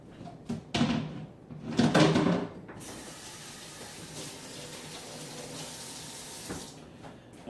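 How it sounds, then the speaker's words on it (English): Hands are washed under a running tap at a kitchen sink, with a few knocks and clatters first, then a steady moderate stream of water that runs alone to the end. "Wash my hand."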